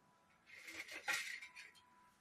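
A plate being picked up in a home kitchen while potato chips are being made, giving a few light ceramic and metal clinks close by, quiet and brief, with no talking.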